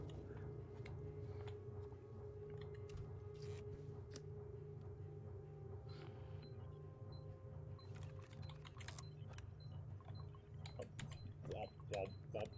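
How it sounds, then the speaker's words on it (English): A low, steady hum of engine room machinery in Alien Isolation runs throughout with a faint mechanical rattle and ticking. Near the end, a few scattered clicks and brief sounds rise over it. "God, I love the sound of engine rooms."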